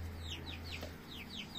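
Hen clucking inside a chicken coop where a white hen has joined the flock: a run of short, repeated clucks and chirpy calls at close range, with a steady low hum running underneath.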